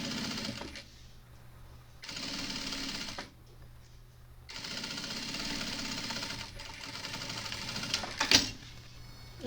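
A sewing machine reverse stitching on a tote bag runs in several short bursts of steady whirring, separated by brief pauses, at close range.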